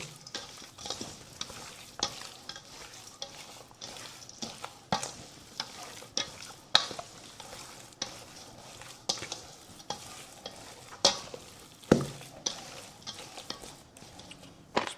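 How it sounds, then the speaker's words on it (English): Pork pieces tossed with sprinkled spices for air-fryer barbecue, giving repeated soft stirring and scraping strokes at close range in an irregular rhythm, with no talking. "Let's mix it up. Mix it in really well."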